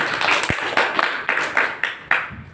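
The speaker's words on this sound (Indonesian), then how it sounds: "Saya minta tepuk tangannya dulu dong buat pemateri kita" A small audience claps for a presenter at an art critique session, with a few distinct, uneven claps rising and fading in a loose rhythm rather than a full roar.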